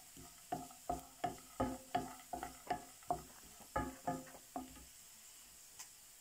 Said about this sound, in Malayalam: അതിനകത്തോട്ട് നമ്മൾ നമ്മുടെ എള്ളും കൂടി ഇട്ട് കൊടുക്കുക. എന്നിട്ടൊന്ന് നമുക്ക് ചൂടാക്കിയെടുക്കാം എള്ളിനെ.